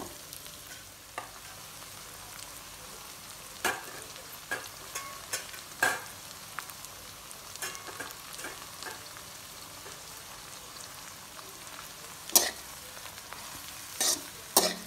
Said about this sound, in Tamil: நல்லா கீழே அடி பிடிக்காமல் நல்லா மிக்ஸ் பண்ணிக்கலாம்.